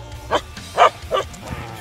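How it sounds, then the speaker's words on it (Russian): A small dog barks three sharp, close yips in quick succession, followed by a softer fourth bark and faint low background noise. "Что ты гавкала?"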